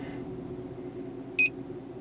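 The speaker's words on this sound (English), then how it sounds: "Sorry for the really annoying beep here." A diagnostic scan tool on a 2004 Jeep Liberty 3.7L gives one short, sharp electronic beep near the end over a low, steady engine idle hum.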